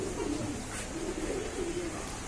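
Pigeons in a breeding loft coo in soft, continuous murmuring calls that are close by and steady, with no voices.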